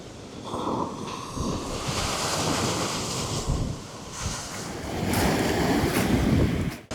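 Ocean waves wash onto a beach in Dili, Timor-Leste, as a continuous roar of surf under gusting wind, swelling louder toward the end, with no voices.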